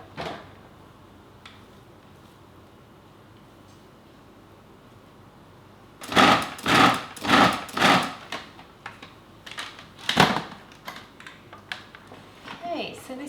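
A food processor pulsing cauliflower into chunky crumbs gives a run of short, loud bursts with pauses between them, starting after a quiet stretch and then trailing off into a few scattered knocks.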